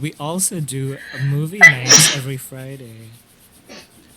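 A quick, breathy sneeze bursts out briefly in the middle of a casual podcast conversation, partly overlapping a person talking nearby.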